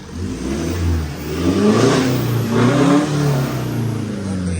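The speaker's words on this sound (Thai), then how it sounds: "เครื่องติดง่ายแล้วไม่ตันแล้วนะมาดูเร่ง" A TATA truck diesel engine revs after an injector repair, rising in two or three surging accelerations that climb and fall back, loud and close with no talk over it.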